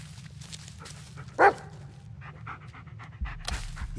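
In the Blair Witch video game, a dog pants in quick, soft bursts and lets out one sharp, close bark, with small whimpers and yips after it over a low, rumbling ambient drone.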